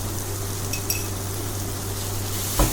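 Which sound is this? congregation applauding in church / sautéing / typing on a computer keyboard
sautéing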